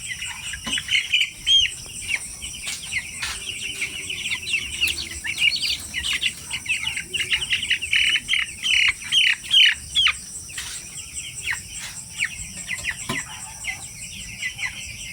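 Ten-day-old chicks chirp and peep continuously in a busy, close chorus of rapid high calls while being weighed, with occasional rustling and flapping underneath.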